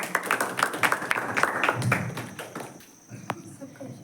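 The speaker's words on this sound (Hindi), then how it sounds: "उनके लिए जोरदार तालियों से स्वागत" An audience at a Diwali gathering claps to welcome a speaker. Close, fairly loud applause with distinct sharp claps runs for about two seconds, then thins out into scattered taps.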